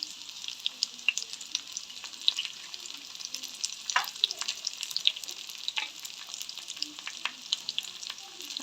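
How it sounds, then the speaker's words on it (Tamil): Fenugreek and mustard seeds sizzle in hot oil, a continuous soft hiss scattered with small crackles and pops, fairly quiet and close, with occasional stirring clicks and no talking. "இப்போ பார்த்தீங்கன்னு சொன்னால் வெந்தயம் போடுறேன். அடுத்ததாக வந்து கடுகு,"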